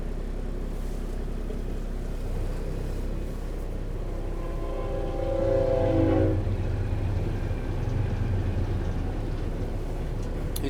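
A fast freight train passes by a farm field during harvest with a steady low rumble and rushing wheel noise that swells midway through, a rising and falling tone near the peak, and continuous clatter to the end.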